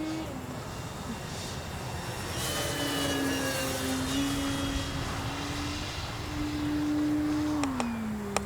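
A Flex Aviator 40E electric RC airplane takes off and flies, its motor giving a steady whine that rises in pitch and holds, carried over soft outdoor wind noise at moderate distance.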